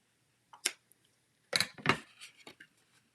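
Paper card front being trimmed, heard as a few short, crisp snips and slicing swipes close by, with a brief one near the start and a denser cluster in the middle, no talking.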